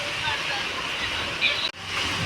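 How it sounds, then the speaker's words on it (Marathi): Dense, hissing downpour of heavy rain roars steadily on a tin roof, with a brief cut in the sound near the end. "आता पाऊस आलाय जोरात"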